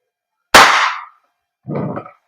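A WE Glock 17 Gen 5 airsoft gas blowback pistol fires two sharp, close, loud shots about a second apart, each a crisp pop with a short hiss trailing off, alone in silence.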